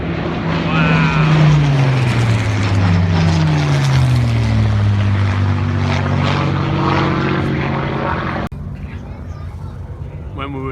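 A propeller aircraft making a low flypast at an air display, its engine drone loud and close, sweeping down in pitch as it passes before cutting to a quieter background; voices speak over it.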